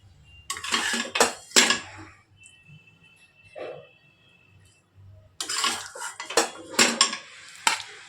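Cooked bitter gourd is scooped from a pan into a serving dish, with bursts of metal utensils scraping and clinking against cookware that are separated by a quiet pause in the middle.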